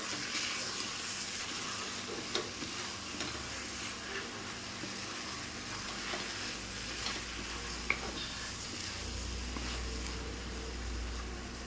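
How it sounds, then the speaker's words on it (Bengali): Garam masala being stirred into prawns frying with taro stolons, a steady close sizzle with soft scraping stir strokes throughout, no voices. "এবার আমি দিয়ে দেবো গরম মশলা, ভালো করে মিশিয়ে নেব।"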